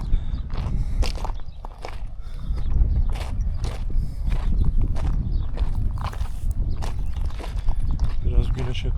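Horse hooves clip-clopping on the ground near the pyramids, a steady walking rhythm with some creaking tack or cart mechanics, close by with outdoor ambience.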